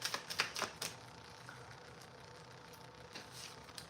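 Tarot cards being shuffled by hand, a quick run of crisp, clicking riffles at the start that settles into a faint, steady papery rustle, close and alone with no talking.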